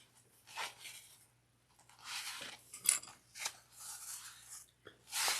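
Scissors clipping fabric for a sewing bag project, several short crisp snips and rustles, close and fairly quiet.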